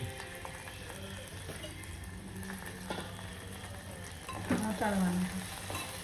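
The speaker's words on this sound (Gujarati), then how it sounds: "સાંતળી નાખવાનું" Garlic and cumin sauté in a pan for thecha chutney, a soft continuous sizzle with occasional stirring scrapes and a louder clatter near the end, under quiet speech.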